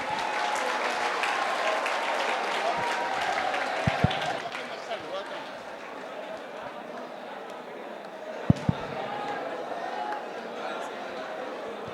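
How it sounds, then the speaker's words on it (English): Audience applause at a college campus session, a crowd of students clapping loosely with murmuring voices mixed in, dipping in the middle and picking up again, with a few sharp knocks. "Give him good round of applause."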